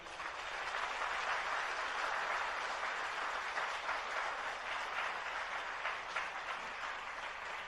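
An audience at a religious class claps their hands loudly and continuously, a thick even roar of many hands that stays steady throughout.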